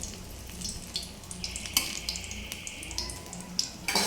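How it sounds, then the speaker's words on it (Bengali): Ginger frying in a little oil with cumin seeds added, a soft steady kitchen sizzle with faint clinks and stirring, no talk. "সামান্য তেল দিয়ে আদা আর জিরে, আদাটাকে একটু ভেজে তারপরে জিরে দিয়ে দিচ্ছি"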